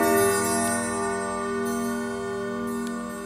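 A German weight-driven clock with a bevelled case and a large 16x23 movement chimes, its resonant bell tones ringing and sustaining steadily with a few fainter metallic accents, close and fairly loud.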